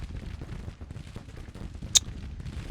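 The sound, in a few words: cannons exploding in a Civil War strategy video game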